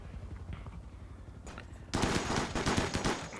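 Gunfire from colonists attacking turrets in RimWorld breaks out partway through, a dense burst of rapid shots that stays loud to the end after quieter game sounds.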